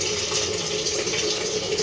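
Tap water runs in a steady, even stream, close and continuous, a bright rushing hiss in a home kitchen.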